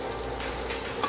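Hilsa fish pieces go into a spice paste cooked down in oil, giving a brief, steady frying hiss at moderate level with a small clink at the end.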